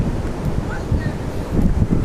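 Wind buffets the microphone at a beach, with waves surging in a steady rush underneath and a voice faintly present.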